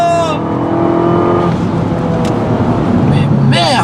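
A 220-horsepower Abarth 500 accelerates hard with its tyres spinning, the engine roaring loud and close as it revs, with excited talk in French over the engine noise.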